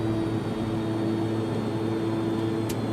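A King Air turboprop drones steadily in X-Plane 12, its engines holding a loud, even hum with a strong tonal whine through the takeoff climb and no pause.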